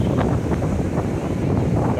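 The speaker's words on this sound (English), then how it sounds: "Still pretty windy and powerful" Strong, gusty wind at Rosarito Beach in Mexico buffets the microphone with a steady, loud roar. Crashing surf may sit underneath it, and no one speaks.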